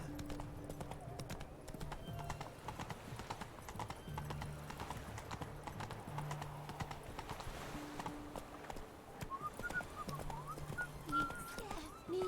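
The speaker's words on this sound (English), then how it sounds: "Whoa there, Roach." Roach the horse trots and gallops in The Witcher 3 video game, with steady clip-clop hoofbeats and an occasional whinny beneath quiet background music and intermittent talk.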